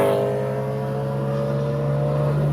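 A BMW E92 M3 with its V8 engine, a steady, near, humming drone with a slowly rising tone, heard alone without talk.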